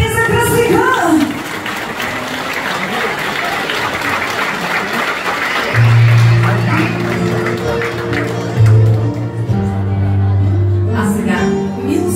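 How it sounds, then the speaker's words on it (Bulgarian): Applause breaks out for the godfather at an outdoor Bulgarian wedding ritual, dense clapping from a crowd that carries loudly for several seconds, with band music and a low steady tone coming in underneath later. "Аплодисменти за кръстника!"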